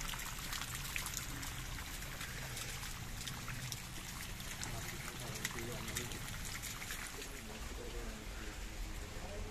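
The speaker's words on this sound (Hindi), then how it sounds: "यहाँ पे ये वाटरफॉल सी बनाई हुई है, ऐसा लग रहा है जैसे नेचुरल वाटरफॉल है" Artificial waterfall in Rock Garden Chandigarh, a continuous broad rush of falling water with people talking faintly around it.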